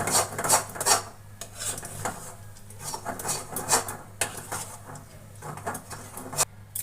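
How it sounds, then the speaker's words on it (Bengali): A spoon scraping and stirring chickpea lentil halwa in a pan over a low flame, irregular rasping strokes with light metallic clinks repeating about once a second, close and fairly quiet. "লো ফ্লেমে রেখে ভালো করে নেড়ে নেব।"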